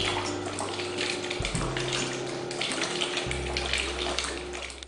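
Small water pump driving a Raspberry Pi dancing fountain, with continuous splashing water and a low motor hum that shifts pitch twice as the pumping rate changes, close and steady throughout without talk.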